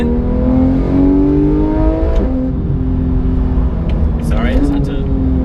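Jaguar F-Type engine revving loudly and steadily close by at a cars and coffee gathering in Monaco, the pitch rising and shifting through several swells, with a brief higher burst near the end.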